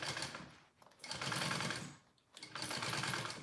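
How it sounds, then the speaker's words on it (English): A sewing machine stitches a half-inch gusset seam on a fabric dragon sling, running in two steady bursts with a brief pause between them, close and fairly loud. "I always like to sew with the gusset facing up"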